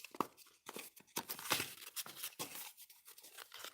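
Fingers pressing in the middle fold of a paper pop-up twist card, producing quiet, close crinkles and soft crackles that come in short irregular bursts with brief pauses between them.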